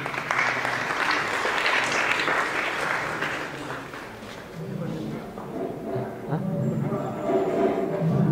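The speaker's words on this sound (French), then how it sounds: "Sous vos applaudissements." Audience applause at a school awards ceremony for top baccalaureate students in Bargny, Senegal, loud clapping that fades around the middle while a voice speaks over the later part.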